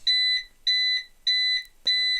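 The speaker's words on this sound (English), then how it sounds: "there's a lot of beeping indicating that it's almost at the threshold" A small CyberPower UPS sounds its low-voltage warning, a clean, piercing electronic beep repeating four times in an even rhythm, close and loud with silence in between.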